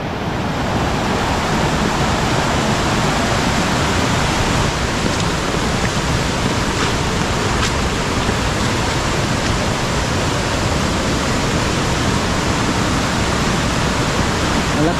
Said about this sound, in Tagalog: Malakas yung tubig dito.